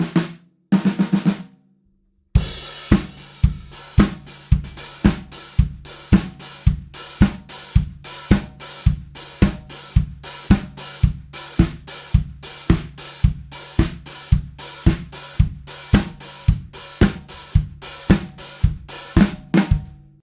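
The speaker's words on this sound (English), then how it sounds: "one of the great things that I like to do is actually just play them both at the same time" A live drum groove with two snare drums struck together, steady sharp backbeats and busy kit hits running at a constant tempo after a brief opening fill and a short pause, close and punchy with no talking.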